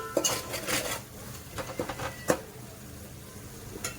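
Khichdi with freshly added mint and coriander being stirred in a pot, a spoon clinking and scraping against the metal in a few sharp bursts, fairly close, with quieter stretches between strokes.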